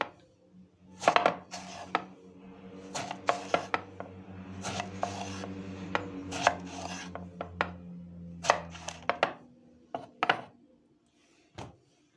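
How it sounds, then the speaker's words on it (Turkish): A knife chops eggplant repeatedly on a cutting board, irregular taps and thuds in bursts with short pauses, close and fairly quiet. "3 tane patlıcanımızı bu şekilde doğradım."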